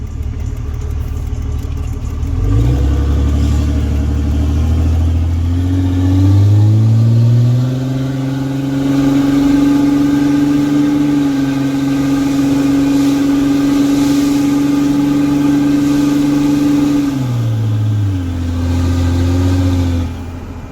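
A 2006 Cummins diesel pickup truck engine with no exhaust system: a loud, raw idle that revs up, holds a high roar for about fifteen seconds, then drops back down to idle.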